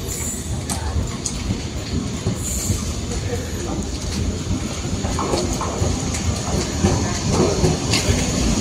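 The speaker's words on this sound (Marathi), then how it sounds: "हे बघा, ही ट्रेन आलेली आहे." A Roha–Diva passenger train pulls into a station, its rumbling noise filling the scene with rattling wheels and occasional squeals, growing slightly louder as it arrives, over a busy background of voices.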